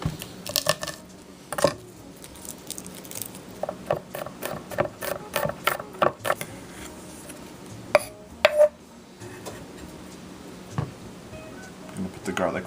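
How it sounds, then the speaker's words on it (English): Irregular knife taps on a cutting board as garlic is chopped, a run of quick close strikes with short pauses. "I'm going to start by chopping up 2 cloves of garlic"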